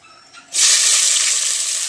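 Red chillies, shallots, garlic and green chillies drop into hot coconut oil and burst into a loud, steady hiss that starts about halfway through and holds without talk.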